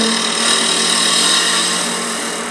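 A wood lathe turning a piece under an 8mm Hope carbide tool during light finishing cuts, giving a steady, bright, close hiss that fades slightly at the end, with no talk.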